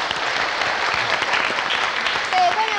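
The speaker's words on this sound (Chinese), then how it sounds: "好，来，我们让掌声欢迎他们" Studio audience applause welcomes the guests onto a 1986 television game show, a steady dense wash of clapping with some voices and a brief whistle near the end.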